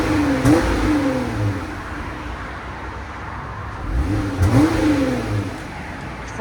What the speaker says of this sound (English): 2023 Jeep Gladiator V6. This is what it sounds like before. Very quiet.